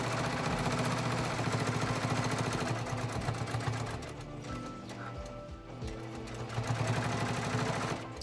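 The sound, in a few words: sewing machine stitching a fabric bowl koozie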